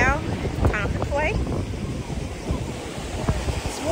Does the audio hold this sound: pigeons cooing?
no